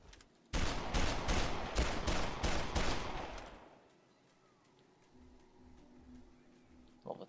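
Desert Eagle heavy pistol firing in Dead Island, a rapid burst of about eight loud, close shots over three seconds, then fading into a quiet low ambient hum.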